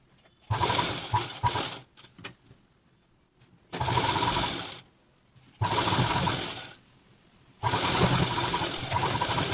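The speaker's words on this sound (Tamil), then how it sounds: "இந்த பாதத்துலேருந்து அந்த பாதம் வரைக்கும் அப்படியே ஒரு தையல் போட்டு எடுத்துக்கலாம்" A sewing machine stitching a seam on palazzo pants made from an old nightie, running in four loud bursts of rapid whirring separated by short quiet pauses.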